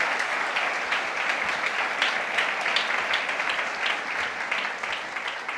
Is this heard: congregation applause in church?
yes